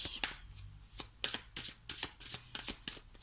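Oracle cards shuffled by hand make rapid, close riffling flutters in regular bursts, followed by soft slaps as cards are handled and drawn.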